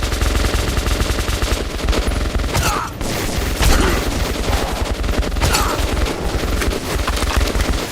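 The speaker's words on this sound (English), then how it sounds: "Fire at will!" Dense, loud automatic gunfire fills a firefight in the video game Metro, with rapid continuous bursts and a few heavier booms layered over one another and no pause from start to end.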